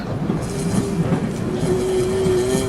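A passenger train waits at a station platform before departure, giving a loud, steady rumble with a thin metallic squeal running through it and no one speaking.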